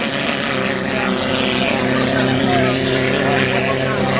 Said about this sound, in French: Alors que Kennedy tente par tous les moyens d'ouvrir les gaz et de rétrécir l'écart qu'il a sur Kelly Shane.